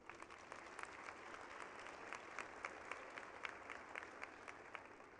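A university commencement audience at a spring 2021 College of Business and Economic Development ceremony claps in steady, sustained applause, heard at a distance and fairly soft.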